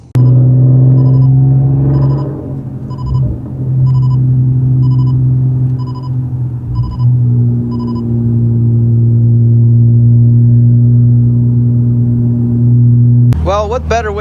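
A turbocharged white rear-wheel-drive sports car cruises in the rain, its engine holding a steady low drone with a short lift near the end, alongside beeping chimes at the start and a brief rising sweep at the close.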